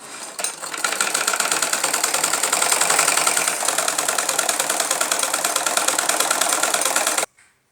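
A sewing machine runs fast and steady, stitching a loose basting seam on salwar fabric, its rapid needle clatter continuous and close before stopping abruptly near the end.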